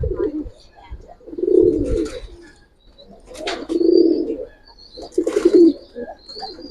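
Giribaz pigeons coo in a few low rounded bursts, close by, with soft chirps and faint background noise between calls.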